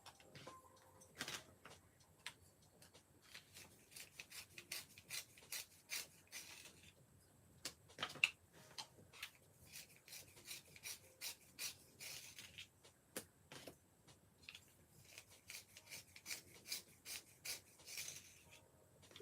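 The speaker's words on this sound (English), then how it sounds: "I'm going to sharpen these" Pencils being sharpened at a desk during a sketchbook session, a dry rasping scrape repeated in many short strokes and quick bursts, close and fairly quiet, with no talking.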